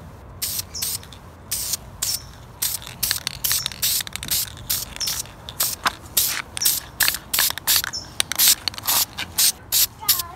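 Spray paint hisses onto a Graupner Pinto RC car body in quick repeated bursts, each short blast starting and stopping in an uneven rhythm, close and fairly loud with no talking.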